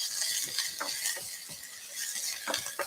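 A spoon stirs garlic and onion in a pan with soft, repeated scraping strokes over a faint, steady sizzle, close and fairly quiet.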